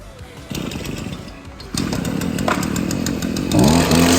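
Husqvarna 243RJ string trimmer running nearby, its small two-stroke engine stepping up in loudness twice as the throttle opens, ending in a higher-pitched, harder rev.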